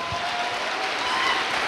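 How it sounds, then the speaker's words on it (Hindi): An audience claps at a speech event: a dense, steady burst of applause that is close and fairly loud throughout. "मैं चाहूंगा जबरदस्त ताली दरोगा प्रसाद जी के लिए होनी चाहिए"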